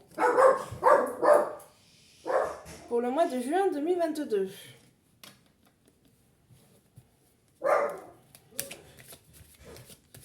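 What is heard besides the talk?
dog barking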